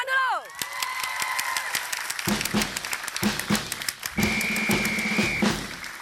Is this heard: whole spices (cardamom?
no